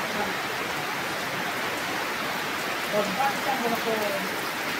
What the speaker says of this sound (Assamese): আমাৰ ইয়াত ইমান ডাঙৰকৈ বৰষুণ দি আছে